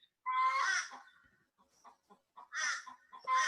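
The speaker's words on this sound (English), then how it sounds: "That's the chicken. Laying an egg." A hen clucks loudly while laying an egg, giving a drawn-out squawking cackle, then a pause of softer clucks, then more loud bursts, fairly close and with no talk over it.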